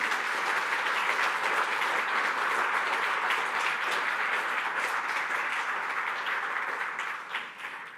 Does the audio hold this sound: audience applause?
yes